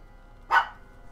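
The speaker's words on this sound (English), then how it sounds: "She's barking at the blinds." A single short dog bark, sharp and mid-loud, rising briefly out of a quiet room with a low background hum, the dog barking at window blinds.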